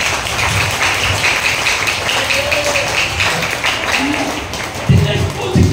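A church congregation claps under a preacher's sermon, with uneven rhythmic claps and taps amid ongoing voices and room noise, fairly close and loud.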